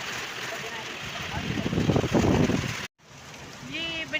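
Steady rain pouring down outdoors, a continuous hiss that swells briefly louder before a short cut, then resumes more softly.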